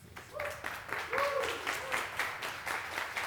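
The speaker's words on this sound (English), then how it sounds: "let's give him a big round of applause, please" Moderate applause from a small audience, steady clapping throughout with a faint voice or cheer rising briefly in the middle.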